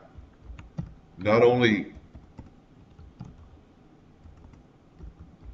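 Typing on a computer keyboard, sparse light key clicks spread across the moment, with a brief stretch of a man's speech near the start.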